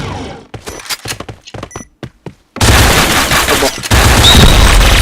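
Gunfire in a shooting video game: a run of sharp separate shots and thuds, then dense, loud sustained automatic fire that pauses briefly before resuming.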